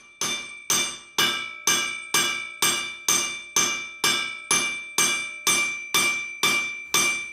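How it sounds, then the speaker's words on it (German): An instrument maker forges brass trumpet braces with a hammer on an anvil: a dozen sharp, ringing metallic strikes at an even, steady rhythm, loud and close, with no talking. "Der Instrumentenmacher schmiedet sie ganz klassisch mit Hammer und Amboss."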